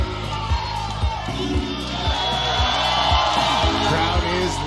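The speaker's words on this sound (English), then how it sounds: "crowd is loving this match" Spectators cheering at a grappling match, loud continuous crowd roar with whoops and yells rising and falling, punctuated by repeated thumps from the mat.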